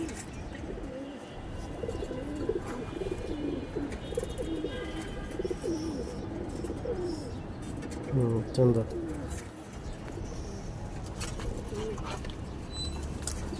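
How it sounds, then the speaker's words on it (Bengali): A female green-necked racing pigeon coos softly in a loft, with a few low coos most distinct partway through, under people talking. "এই যে একটা সবুজ গলা কবুতর এই মাদিটা"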